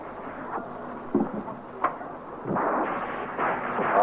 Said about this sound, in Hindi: तूफान तो बहुत तेज है।